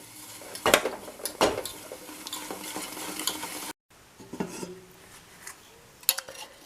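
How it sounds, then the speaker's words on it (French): Spoon stirring chocolate melting into crème fraîche in a bain-marie saucepan, with repeated close scraping and clinking against the pan, a brief cut to silence partway, then softer stirring, and no talk. "Dans une casserole bain-marie, je fais fondre mon chocolat dans la crème fraîche."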